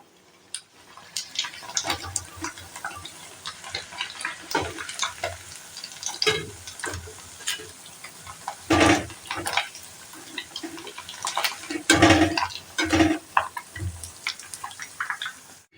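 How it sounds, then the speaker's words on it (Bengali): Homemade sweets frying in a pan until reddish-brown, with steady sizzling and bubbling oil and intermittent louder clatters and scrapes as the pieces are turned and lifted, no talking. "এবার কিন্তু আমাদের মিষ্টিগুলো বেশ লাল লাল করে ভাজা হয়ে গেছে।"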